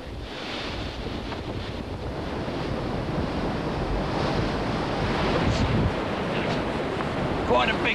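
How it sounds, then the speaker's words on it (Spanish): Rough sea and strong wind around a racing sailboat heading into heavy water, a constant roaring wash of waves with gusty wind buffeting the microphone, building slightly louder over time. "En este momento nos dirigimos hacia una mar bastante fuerte."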